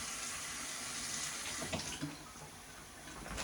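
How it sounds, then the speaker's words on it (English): Tap water runs from a faucet into a sink while hands are washed in a kitchen, a soft steady splashing hiss with a few small knocks and splatters, fairly quiet and with no talking. "let me wash my hands again."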